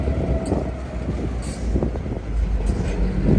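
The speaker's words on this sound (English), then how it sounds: "And now it's pulling again." A freight train loaded with scrap metal pulls along the tracks on Leestown Road in Lexington, Kentucky, a loud, continuous low rumble with clanks and hissing bursts, close by and without talk.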